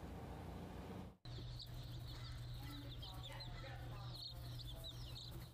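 Hens cluck and baby chicks peep in a busy chorus at a San Diego poultry sale, with a steady low hum underneath and a brief cut near the start.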